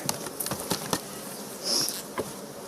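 Honey bees in a spring hive hum and buzz up close, with a steady insect drone, soft patter and brief louder passes as bees fly near.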